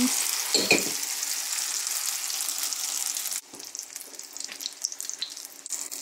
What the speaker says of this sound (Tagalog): Hintay lang natin ininit, guys. Ayan. Ilagay na natin.